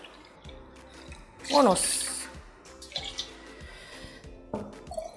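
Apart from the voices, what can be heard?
pouring warm water into a cup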